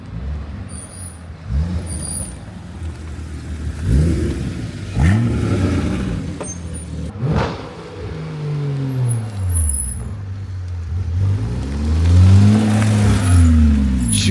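Porsche cars at a morning Cars and Coffee gathering make U-turns and drive past, engines rising and falling as they pull around, some revving close by over steady outdoor traffic noise, with no talk.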